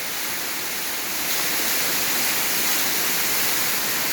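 A natural waterfall in Karen State pours with a steady, loud, broadband roar that stays constant throughout, with no voices over it.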